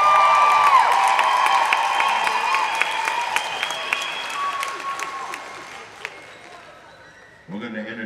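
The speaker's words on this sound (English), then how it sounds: "How about a big round of applause?" A powwow audience claps loudly and steadily with scattered cheers and whoops, and the applause fades gradually. An announcer's voice cuts in at the end.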